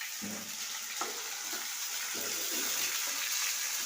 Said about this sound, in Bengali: এখন আমি এই মটরশুঁটির খোসাটা বাটা দিয়ে দেবো